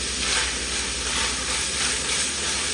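Ground beef frying in a skillet for a cheesy beef and potato dish, a steady dense sizzle with crackling spatters running without a break, close and loud with no voices.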